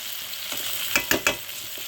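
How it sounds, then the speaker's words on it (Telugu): Onions frying in a tempering for brinjal chutney, a continuous close sizzle with a few quick scraping stirs clustered near the middle; no talk. "సో ఇలా ఉల్లిపాయలు కూడా బాగా వేగిపోవాలండి"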